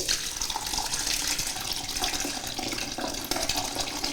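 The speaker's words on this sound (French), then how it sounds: "Et là, je vais verser tout doucement. Il faut que le jus soit filtré." Juice poured slowly through a cloth filter in a kitchen, a steady continuous stream of running liquid splashing and trickling throughout, close and fairly loud, with no talking.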